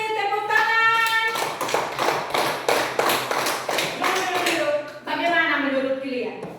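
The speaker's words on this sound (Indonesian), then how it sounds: "Terima kasih, tepuk tangan." A fourth-grade class claps together in a quick rhythmic pattern of sharp, evenly spaced bursts, with children's voices chanting over and around the claps, close and lively in the classroom.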